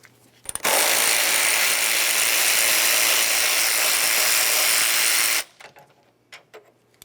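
A ratchet backs out 10mm radiator mounting bolts on a 2001-2005 Ford Explorer Sport Trac, giving a loud, close, continuous buzzing rattle for about five seconds before it stops, followed by a few faint clicks and knocks.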